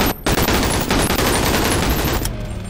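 Rapid automatic gunfire from a weapon in the VR game Bonelab, a dense, loud, sustained burst of shots lasting a couple of seconds with a brief pause near the start, no talk over it.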